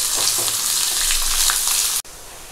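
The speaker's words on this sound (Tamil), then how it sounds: "இப்போ இதில் கருவேப்பிலை, காஞ்ச மிளகாய், வெங்காயம் இது மூணையும் ஆட் பண்ணிக்கோங்க. வெங்காயம் கொஞ்சம் நல்லா வதங்கிக்கட்டும்." Onions, curry leaves and dried red chillies sizzle steadily in hot oil in a pan for immunity-boosting amla rice, a constant close frying hiss with small stirring clicks, dropping sharply quieter near the end.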